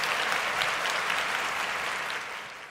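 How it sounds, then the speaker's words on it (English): Steady, dense clapping from a studio audience at the opening of a sports talk show, loud and continuous throughout before tapering slightly near the end, with no voices over it. "I like the applause"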